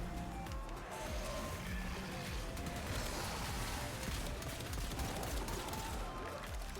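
Rapid pistol fire in the shooter Warframe, a dense continuous stream of shots blended with other combat noise, fairly faint and steady throughout.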